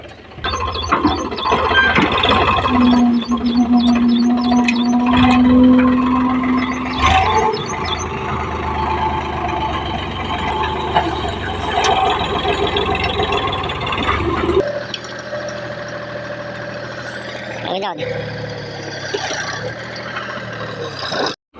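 A tractor runs on a village farm while farm manure is handled, giving a continuous mechanical engine drone with rattling and clanking parts that shifts in character partway through and carries on steadily with no talking.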